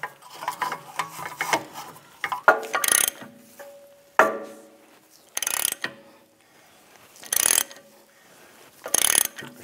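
A special puller tool is tightened on the rear hub of a 2004-2010 BMW X3 to draw the hub out, giving irregular metallic ratcheting clicks and clanks with several sharper bursts spread across the stretch.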